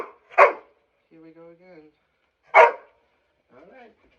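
A dog barks outdoors in two loud, sharp bursts spaced a couple of seconds apart, with a person talking quietly in between.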